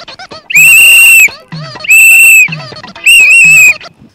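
A watchman blows a whistle in three loud, sustained shrill blasts, each lasting under a second, with short gaps between them that hold brief, softer vocal sounds.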